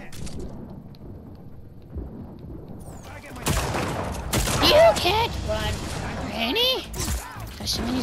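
Shots from a shoddy gun in the open-world action game Just Cause 4 crack out in bursts after a quiet opening, loud and close, layered with game effects and a talking voice.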